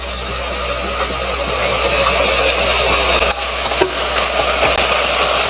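Four small chopped tomatoes hit hot oil for a hotel-style parotta salna and are stirred, making a loud continuous frying hiss over a low steady hum, broken by a sharp clatter midway.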